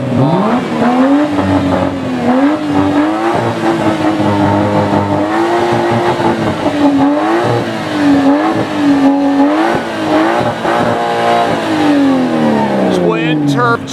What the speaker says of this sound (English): Is he going into race mode? Giving us some revs.